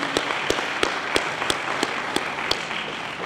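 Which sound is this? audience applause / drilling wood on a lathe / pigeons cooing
audience applause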